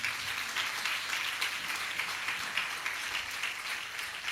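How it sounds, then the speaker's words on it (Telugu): Faint, steady applause from a church congregation at a Telugu sermon, a soft continuous patter of many hands heard at a distance. "కొట్టు చప్పట్లో"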